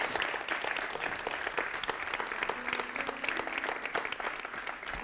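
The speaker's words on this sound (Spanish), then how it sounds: "dése ese aplauso a Jesucristo." A church congregation claps for Jesus Christ during a sermon, giving loud, sustained applause full of sharp individual claps that carries on steadily for the whole stretch.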